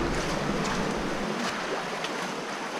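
A sailboat rides through ocean waves, with a steady broadband rush of water and wind across the hull, continuous and fairly loud, with no voices.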